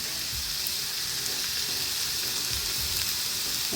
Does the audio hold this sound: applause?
no